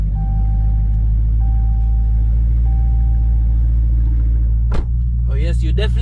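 Dodge Charger Scat Pack with a deep, steady engine rumble that holds low and loud throughout, heard up close, with a voice briefly speaking near the end.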